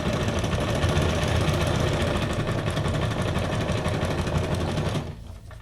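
A sewing machine running a straight stitch at steady speed, a dense rapid mechanical whirring and clatter heard close up for about five seconds before it stops and only faint room noise remains.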